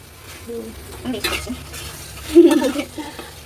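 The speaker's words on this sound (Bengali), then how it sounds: "আর একটু কষা ভালো করে দাঁড়া মতো করে নাড়ি" Spice paste (kosha masala) for a large katla fish curry is being fried and stirred in a pan, with a soft sizzle beneath intermittent scraping and clinking strokes of the spoon, close by.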